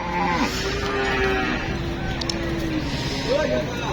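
Cattle low and moo at the Deohata cow market amid a busy crowd, several drawn-out calls over constant chatter and background noise, with people talking nearby.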